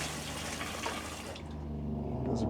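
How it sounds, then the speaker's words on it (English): A newly installed Thetford Aqua-Magic RV toilet flushes with a steady rush of water from its jets, then cuts off abruptly as the bowl seals, leaving a quieter trickle of refilling water close by. "Now, I'm going to flush it here so that you guys can see the flush."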